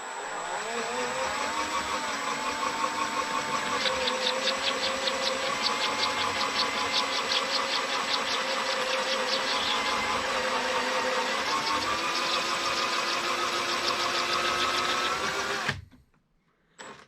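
A motorized case trimmer cuts the necks of Lapua 6.5 PRC rifle brass, a steady close whirring drone with faint chattering that runs about sixteen seconds before stopping abruptly.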